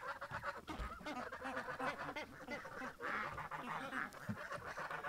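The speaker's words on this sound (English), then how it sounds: "Not a lot of ducks here." Ducks from a small backyard flock quack in a steady, busy chatter close by, with overlapping calls and no clear pause.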